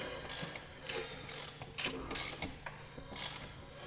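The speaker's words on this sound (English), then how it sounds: "Go turn the crank." An Evo motorcycle engine is turned over by hand at the crank, giving a string of close mechanical clicks, creaks and ratcheting catches in an uneven rhythm, fairly quiet and with no talk.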